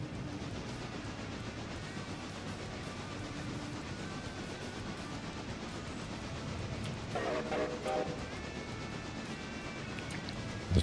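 Passenger train in the Railroader video game running steadily with a continuous rumble and rolling rail noise, a brief brighter clatter of wheels or squealing partway through, no talk.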